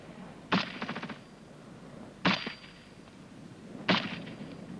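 Rifle and machine-gun fire during infantry squad training comes in three separate loud bursts a second or two apart. Each opens with a sharp crack, and the first trails into a rapid rattle of shots.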